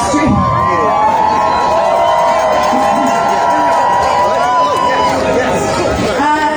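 A large, dense crowd at an outdoor street rally fills the space with steady chatter, shouts and cheering, loud and continuous from start to finish, with voices talking throughout.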